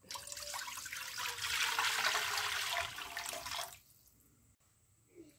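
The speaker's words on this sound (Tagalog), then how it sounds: "Ngayon naman ay maglalagay ako dito ng tubig para sa bihon at saka sa canton." Water pours steadily into a cooking pot for several seconds, its pitch rising slightly as it fills, then stops, leaving quiet with a faint clink.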